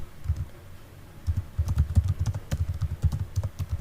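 Quick, close clicking of keys on a computer keyboard while code is entered, starting in short bursts and then settling into steady typing with no speech over it.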